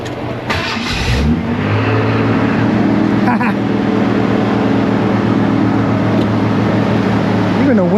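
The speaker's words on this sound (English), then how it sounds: "See if it'll crank up." A Ford F150 pickup with a starting fault that only cranks in neutral turns over briefly and fires up, then settles into a loud, steady, rumbling idle close by, with a faint rev near the end.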